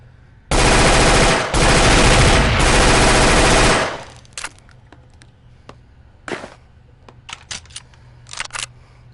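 A P90 fires in Gun Club VR: one long sustained automatic burst of rapid shots for about three seconds, loud and close, followed by scattered clicks and clatters of handling.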